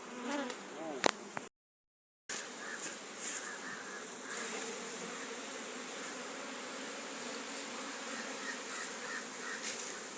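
Honey bees buzz around an open hive during an inspection at a Jamaican apiary, a dense, steady drone close by, with a brief dropout early on and faint bird calls in the background.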